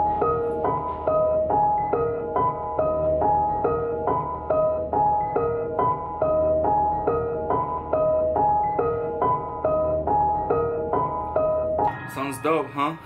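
A piano melody in a hip-hop beat with a Gross Beat effect preset loops repeated chopped notes over steady low drums, loud and continuous, shifting to a warbling glitchy texture near the end.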